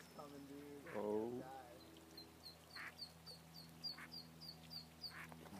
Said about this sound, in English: we need to adopt that duck